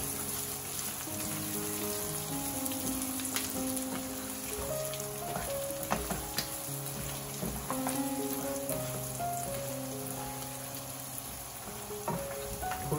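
Beef bhuna, with lemon juice squeezed in, sizzles and crackles steadily in the pan as it is gently stirred, while soft background music plays underneath.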